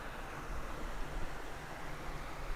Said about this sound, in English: The South Power River.